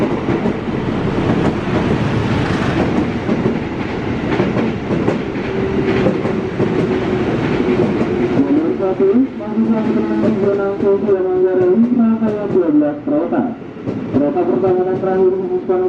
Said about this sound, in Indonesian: di belakang kereta ini terdapat kereta api Bengawan 282